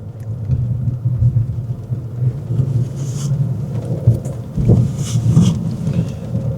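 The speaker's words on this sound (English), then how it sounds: "but it's raining today." Steady rain falls outdoors at a water park while low rumbles of thunder roll through, with a few deeper swells partway through.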